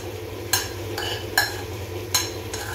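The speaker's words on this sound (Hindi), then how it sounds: "अच्छे से इसको मिक्स कर देना है" Soy chunks are stirred together with ketchup and spices in a pan, with a few soft scraping strokes of a spoon over a steady low hum and faint sizzle.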